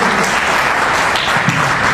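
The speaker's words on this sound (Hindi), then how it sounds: "जोरदार ताली बजाकर स्वागत कीजिए" Loud, steady applause from a gathered crowd welcoming a speaker at a Hindu assembly at Kalkaji Mandir, a dense wash of many hands clapping continuously throughout with no talk over it.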